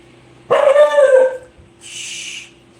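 A protective pet dog at home lets out one loud, close bark that runs into a drawn-out whining yelp, then a softer, breathy follow-up sound, over a steady low hum.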